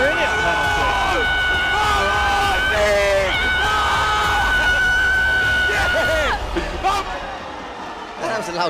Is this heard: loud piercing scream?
yes